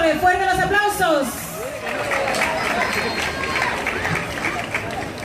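Pageant audience in Naranjal, Ecuador, applauding a Miss Ecuador candidate: sustained crowd clapping and cheering that swells after music and an announcer's voice fade out at the start.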